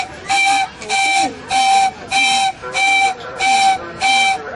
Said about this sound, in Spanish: La pifilca, que es un instrumento de viento que tampoco lo puede tocar la mujer